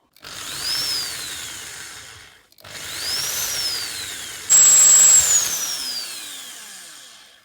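A smaller power drill bit drills out a rivet on a Matchbox Lesney diecast Aston Martin DBR5, whining steadily in two bursts with a short pause between, pitch rising and falling, then a louder, harsher stretch near the end.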